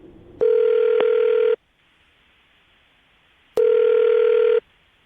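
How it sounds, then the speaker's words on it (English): A telephone rings twice through a call line, each steady electronic tone lasting about a second and separated by a long quiet gap, loud and clear with a faint line hiss between rings and no talking. "I'm about to dial the phone number and get him on the phone"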